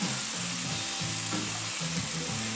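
Food sizzling and crackling steadily in a hot pan, a continuous close frying hiss with no one talking.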